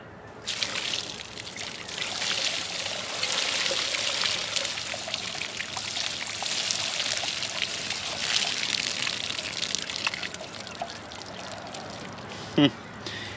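Water pouring and trickling as it overflows and spills out of a sous vide container holding a turkey, a steady continuous splashing flow with a brief sharper splash near the end.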